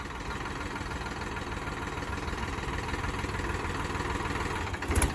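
A tractor engine runs steadily nearby with a low, continuous rumble and vibration, followed by a short clattering knock near the end.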